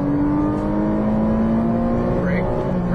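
Ferrari 458 Italia, Porsche 911 Turbo S or Cayman sports car on a Las Vegas racing course, engine droning steadily under throttle with a rise in revs near the end, heard from inside the car with a voice talking over it.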